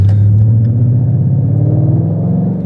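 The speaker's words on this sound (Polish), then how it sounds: "że jest bardzo głośny wydech" A Ford Mustang GT sports car, styled as a Shelby GT500, rumbles loudly and deeply through its exhaust, holding a steady, throbbing idle close by.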